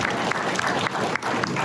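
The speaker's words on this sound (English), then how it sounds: "let's give him a round of applause" Brief round of applause from attendees at a town hall meeting, steady clapping at moderate volume with a few sharper claps standing out.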